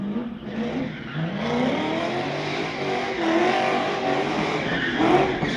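A rally car races during the Rajd Lasowiak event in Stalowa Wola, a round of a regional competitive driving championship, its engine loud and close, revving and shifting continuously with brief tire squeal.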